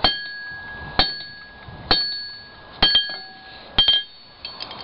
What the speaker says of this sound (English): make sure it's all straight and nice, and you just hammer it out